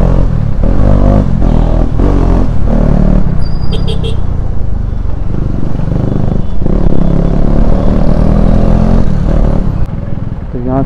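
A KTM Duke 250 with a loud aftermarket exhaust is ridden on roads in Jammu, its engine droning loudly and continuously close up, rising and falling with throttle, with wind rush and a brief high beep in the middle.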